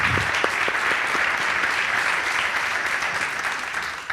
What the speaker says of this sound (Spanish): Un fuerte aplauso para José Antonio Bernal.